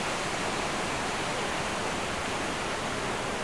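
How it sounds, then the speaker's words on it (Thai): Steady, dense rush of falling water at Tat Yai Waterfall in Nam Nao, Phetchabun, Thailand, loud and close, filling the whole clip with a constant roar and no pauses. "นี่คือบนน้ำตกนะครับ"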